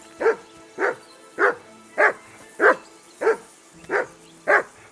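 A dog in Kingdom Come: Deliverance II barks eight times in an even, steady rhythm, each bark short, clear and close, with near silence between them.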